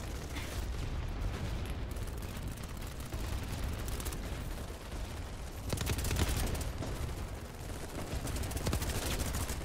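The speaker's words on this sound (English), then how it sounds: "literally just sitting here chucking nades" Grenades and gunfire in BattleBit Remastered on the Namak map: dense, continuous rattle of shots with heavier bursts and blasts around the middle, loud and busy throughout with no talk.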